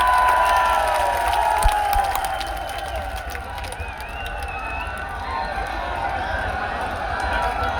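A large crowd at a political rally in Rajasthan roars with continuous slogan-shouting and cheering, a dense, loud wall of voices that fills the whole stretch without pause.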